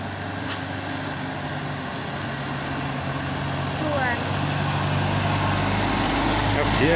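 A medium bus with a Mercedes engine labouring up a steep hill, a steady low engine drone that swells gradually louder toward the end, with a brief faint chirp partway through.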